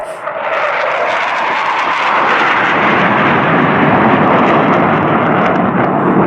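Military jet roaring low through the Mach Loop, a loud, sustained, rumbling engine blast filling the whole stretch without pause, no voices over it.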